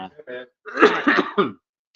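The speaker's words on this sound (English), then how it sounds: "I'm coughing." A few short throat-clearing coughs, close and fairly loud, with a brief pause after the first couple and then silence.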